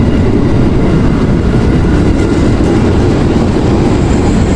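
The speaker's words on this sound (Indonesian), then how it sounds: "tuh KRL lewat." A KRL commuter train running from Bogor toward Jakarta Kota rolls past up close, a loud, steady low rumble of wheels and carriages that holds at full strength throughout with no voices.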